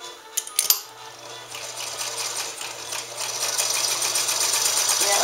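A Stitchmatic sewing machine stitches rapidly close up after a few light clicks and taps, its whirring chatter steady and building slightly, with a faint voice in the background.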